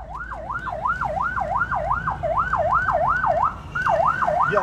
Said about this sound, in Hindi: सड़क पर मौजूद ट्रैफिक की जानिब से एम्बुलेंस की सायरन को नजरअंदाज करने का सिलसिला शुरू हुआ।